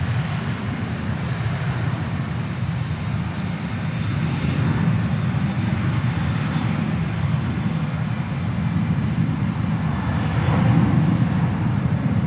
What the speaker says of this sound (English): This is American Airlines Flight 2406. It's going to Minneapolis, St. Paul, 737-800.